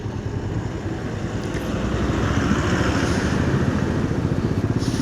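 A motorcycle rides along the Rayakotta road on the way from Madurai to Hosur, its engine humming steadily up close under constant wind rush, swelling slightly louder about halfway through.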